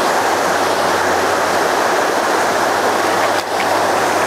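River water rushes over a lip at the back of a pool in a constant, broadband roar, close and steady without pause.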